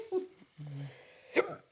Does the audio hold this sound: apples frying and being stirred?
no